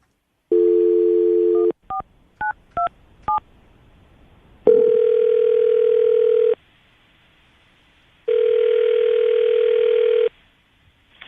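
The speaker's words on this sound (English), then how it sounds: "I'm going to call him right now" A landline telephone call being placed, with a steady dial tone, a quick series of keypad dialing beeps, then long ringback tones separated by a pause, all loud and close with no talk.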